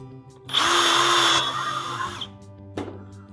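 A power drill whirs loudly for about two seconds driving a screw into wood, its motor pitch steady then slowing, followed by a short knock.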